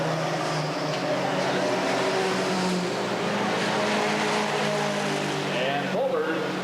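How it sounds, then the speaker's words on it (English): A race car engine drones loudly and steadily, with a rising whine near the end, while a commentator talks over it. "Watch how hard he pushes that car through and brings it way out."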